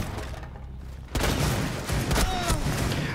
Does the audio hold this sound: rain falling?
no